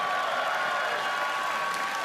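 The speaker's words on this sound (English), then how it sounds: "Give them a big round of applause." An audience at a Conservative policy convention in Calgary applauds, a dense, even wash of many hands clapping at a moderate distance, steady from start to finish.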